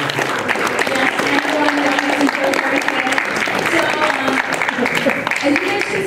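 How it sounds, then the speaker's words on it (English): An audience at a Phoenix Comicon convention panel on sci-fi filmmaking applauds, a loud, sustained wash of many hands clapping with crowd voices mixed in throughout. "go ahead and give you guys a round of applause"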